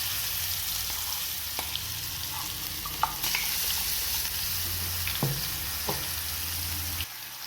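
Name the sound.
spice paste frying in pan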